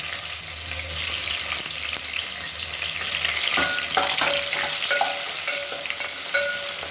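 Whole spices such as cloves and onion frying in oil for biryani, a loud close sizzle with spatula scrapes and stirring taps, no one speaking.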